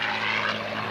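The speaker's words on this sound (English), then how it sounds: "Packard built these aircraft engines, these Merlin engines, as Doug does the 8-point hesitation roll" A P-51C Mustang with a Packard-built Merlin engine roars steadily overhead at an air show, the propeller engine drone loud and continuous with no talk.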